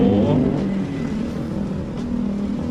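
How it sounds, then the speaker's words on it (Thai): Loud motorcycle engine droning steadily nearby on a Bangkok street, a low rumbling hum that eases slightly in pitch partway through. "มอเตอร์ไซค์บางคันก็แบบว่า เสียงดังดังเนาะ"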